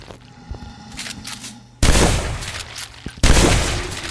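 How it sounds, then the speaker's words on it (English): Video game gunfire from a Minecraft Bedrock gun mod: faint clicks, then two loud sharp blasts, each trailing off into a noisy decay. "I need to shoot him in the chest, don't I?"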